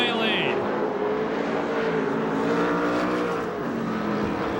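USAC/CRA sprint cars roar through a heat race at Perris, California, a dense sustained engine drone with shifting pitch as cars circle, loud and continuous, with a commentator talking over it.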